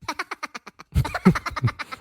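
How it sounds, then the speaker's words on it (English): A canned laughter effect from a Hollyland Melo P1 button plays as a loud burst of rhythmic ha-ha pulses, followed by a fuller crowd of overlapping laughs. "So here's laughter."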